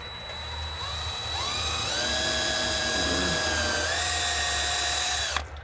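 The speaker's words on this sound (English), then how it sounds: "Just going to pre-drill these a little bit." A power drill whines steadily for about five seconds, pre-drilling holes to mount an outdoor security camera, its pitch rising slightly as it bites into material, then cuts off abruptly.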